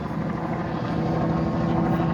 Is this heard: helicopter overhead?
yes